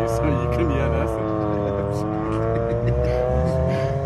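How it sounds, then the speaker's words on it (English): Rally car starting up right beside the microphone at a South African Rally Championship event, its loud engine note steady and close, with a voice talking over it throughout. "Don't you just love the sound of a rally car that starts up right next to you so you can hear nothing?"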